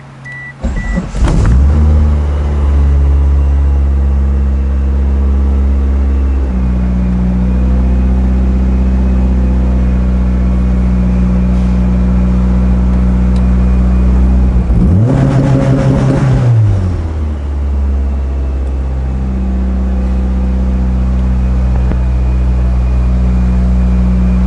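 A Mitsubishi Eclipse built as a Fast and Furious replica starts and idles loudly up close, its steady engine drone broken by a sharp rev that rises and drops back around the middle, with no voices.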